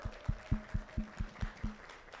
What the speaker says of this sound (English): So a round of clap for them.